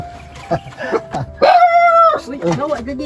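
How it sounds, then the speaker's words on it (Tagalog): A dog gives a few short yips and a drawn-out whining howl, close by and fairly loud, with voices talking around it. "May aso."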